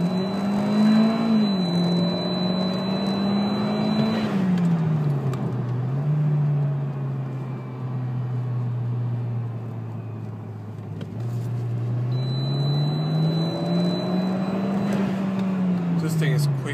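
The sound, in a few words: Hyundai Genesis Coupe 2.0T accelerating hard in third gear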